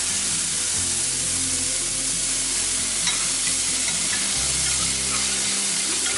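Pork with garlic fries in a pan for Thai rice soup, a loud, constant hiss and sizzle close up, with occasional stirring scrapes and a low hum underneath.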